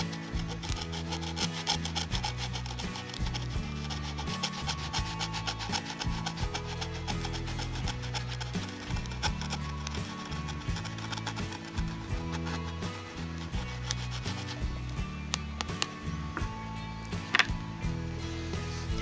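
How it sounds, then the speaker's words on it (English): A fingernail scratches washi tape off a surface, making close, continuous rough rubbing and scraping strokes in an irregular rhythm, fairly quiet and with no talking. "I'll just scratch off the rest of this top bit."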